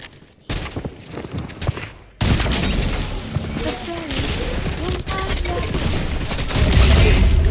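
Rapid gunfire in a multiplayer shooter video game, bursts of automatic fire with booming shots over a busy, loud game soundscape, fairly close and continuous.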